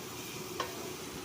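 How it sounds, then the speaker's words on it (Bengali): Spice paste and potatoes cook in a pan, a brief low sizzle marked by one soft scrape or tap of stirring. "এবার এটার সঙ্গে আলু দিয়ে ভালো করে কষাবো, মশলাটাকে ভালো করে কষাবো ওখানটায় আলুর সঙ্গে।"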